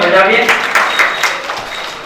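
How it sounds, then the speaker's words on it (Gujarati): An audience at a cooperative society's annual general meeting in Amreli gives a short burst of dense applause in a hall, with a voice heard over the clapping. "જોરદાર તાળીઓથી આપણે અશ્વિનભાઈને વધાવીએ"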